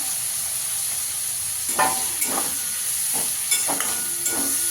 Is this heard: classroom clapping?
no